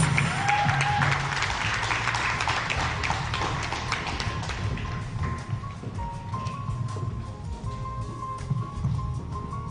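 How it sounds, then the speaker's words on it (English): Audience at an immigration workshop held at Pearl Gate Gardens in East Legon claps steadily for several seconds, a dense, fairly loud patter that thins slightly toward the end. "And now, clap your hands"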